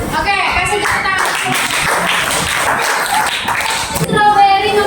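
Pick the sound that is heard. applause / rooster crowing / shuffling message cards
applause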